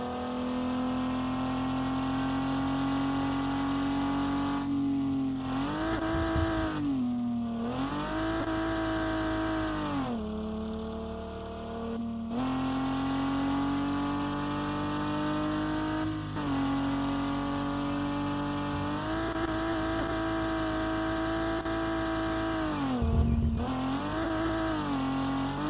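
A car engine in the driving game Revhead drones loudly and steadily, rising and falling as the driver revs and shifts gears, with brief tire squeals. No one speaks.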